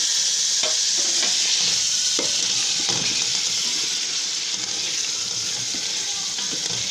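Pulao masala with potatoes frying in a pan for aloo matar pulao, a steady bright sizzle with occasional stirring scrapes and clinks, close and continuous with no talking.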